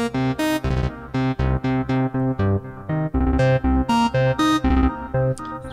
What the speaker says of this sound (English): well, we've done an arpeggiator as well, good old Berlin school style arpeggiator, and it sounds like this.